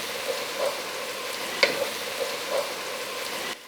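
Onions frying in a pan until translucent while cooking okra soup, giving a steady close sizzle with a few soft stirring scrapes and one sharp clink, no talking.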